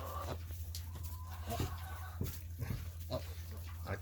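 A pig on a small family farm grunts and snuffles intermittently in short bursts over a steady low hum, with no talking.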